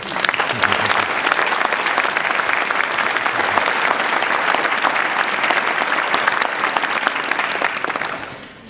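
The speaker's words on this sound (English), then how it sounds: "Let's take a moment to applaud and appreciate these volunteers." Audience at a clinic history event applauds volunteers and staff standing in their seats, loud sustained clapping that holds steady for about eight seconds before fading out.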